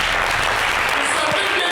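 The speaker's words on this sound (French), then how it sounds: "qu'on applaudit" A studio audience on a Côte d'Ivoire TV music show claps for a classic Ivorian artist's song, loud, close applause that fills the clip while a voice and some music-like tones sit underneath.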